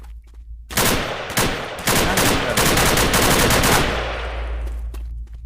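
Rapid automatic gunfire from a console video game rattles out in loud, dense bursts, sustained for several seconds with brief gaps before tailing off.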